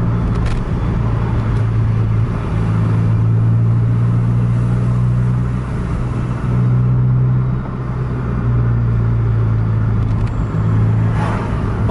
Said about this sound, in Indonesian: Padat lalu lintas